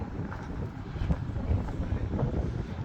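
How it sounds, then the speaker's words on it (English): Strong gusting wind buffets the microphone outdoors at Crusader-era sites in Acre, Israel, a steady low rumble with louder surges, no talk. "that's a wind."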